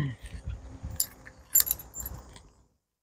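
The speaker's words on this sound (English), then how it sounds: "we turn the key for power to the motor" A key is handled and turned in the ignition of a DIY 60 km/h electric scooter, bright metallic jangles and a couple of sharp clicks over a low rumble, close by and without talk.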